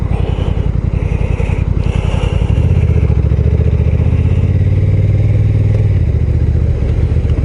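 Honda NT 1100 motorcycle with DCT gearbox riding through a roundabout, its engine a steady loud drone that shifts to a higher, smoother hum midway, with wind buffeting throughout and no talking.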